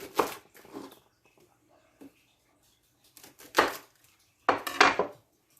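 Knife cuts through larger vegetables on a cutting board, leaving a few separate clunks and scrapes with pauses between them, up close in a kitchen while dishes are prepped for roasting.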